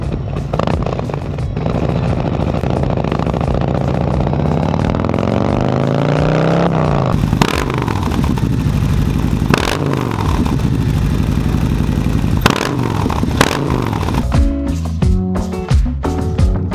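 A motorcycle with a Khrome Werks Dominator 2-into-1 exhaust and 465 cam revs loudly up close, its exhaust rising and falling in pitch with rattling throttle blips.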